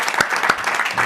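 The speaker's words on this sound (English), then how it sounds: "If everyone would, please. Quick round of applause." A short, dense round of applause from attendees at a county planning commission meeting honoring a retiring member, steady clapping from a room-sized group, close and fairly loud.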